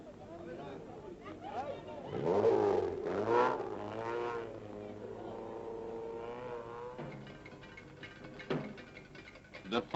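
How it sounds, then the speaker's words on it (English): A 1969 East African Safari Rally car drives off into the night, its engine revving up and then tailing away, with people chattering over it. "And now the car vanishes into the night, fully refreshed and rejuvenated."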